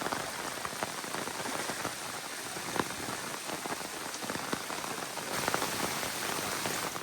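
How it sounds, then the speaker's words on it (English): Rain falling near the sea at a small stone home in Greece, a dense steady patter of drops on surfaces with scattered louder close hits throughout. "Just the sound of rain,"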